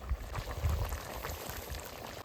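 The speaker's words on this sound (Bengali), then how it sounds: "এক ঢাকনা কেওড়া জল দিয়ে দেবো" Liquid poured into a pot of biryani, a capful of kewra water, giving a soft continuous splashing sizzle against low rumbling cooking noise.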